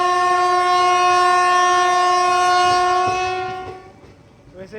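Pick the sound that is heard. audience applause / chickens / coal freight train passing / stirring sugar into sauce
coal freight train passing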